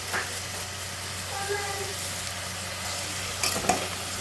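Chicken sizzling in a pan for sotanghon soup, a soft continuous hiss with a steady low hum beneath and a few stirring scrapes near the end.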